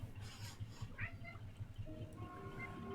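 A cat meows faintly in a video game, a few short calls rising over a low rhythmic background hum, with some quiet tones near the end.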